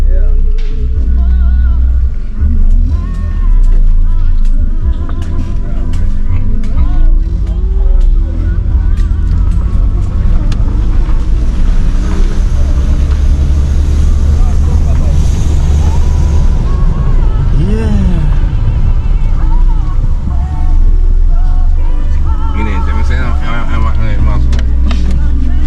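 A crowded bus ride in Jamaica: a loud, continuous engine drone and road rumble with rattling and shifting, with people talking throughout over the motor.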